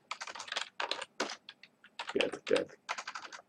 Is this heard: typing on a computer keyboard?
yes